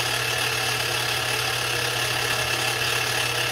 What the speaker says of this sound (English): the machine is declutched, and now the motor can wind the bobbin without cycling the whole machine